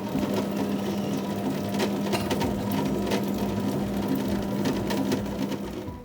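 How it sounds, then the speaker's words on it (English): Electric grinder working soaked dosa batter ingredients: a steady, loud mechanical whirring and churning hum that runs without a break, close up, with no talk. "Now I'm going to grind it, and then I'm going to leave it for fermentation."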